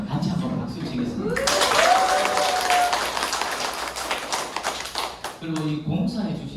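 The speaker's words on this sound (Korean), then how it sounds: "우리 리더 사장님한테 감사를 드리면서 같이 한번 박수 치겠습니다" An indoor audience gives a round of applause for a company leader at a business seminar, a full burst of clapping rising after a speaking voice and fading out before talk resumes.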